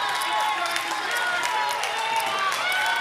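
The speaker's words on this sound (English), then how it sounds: "And the Brew Boys cheer." Crowd of fans cheering and hollering at a poker final table in a casino tournament, a steady dense wall of voices with whoops throughout.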